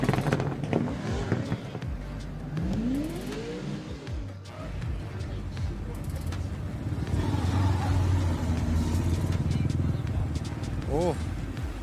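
Toyota JZ-engined drift car revving hard at a D1GP Malaysia drift event, rising and falling engine sweeps with bursts of acceleration, heard under continuous commentator speech and crowd noise.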